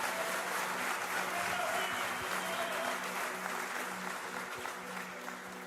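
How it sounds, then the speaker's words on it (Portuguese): Church congregation applauding at a Brazilian evangelical business-focused service, a steady wash of clapping that holds for several seconds and slowly fades, with faint voices underneath. "Aplaude aí, faz alguma coisa para animar esse ambiente"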